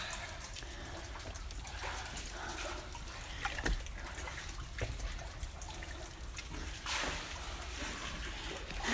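Water splashes and trickles faintly as someone wades through a flooded copper mine in the Cascade Mountains, with soft intermittent sloshes and small drips in a quiet, echoing space.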